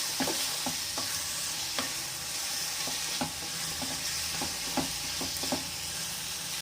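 Masala with salt and turmeric sautés in a pan for a soya chunk gravy, giving a steady close sizzle with the light scrape and tap of stirring throughout, and no voices.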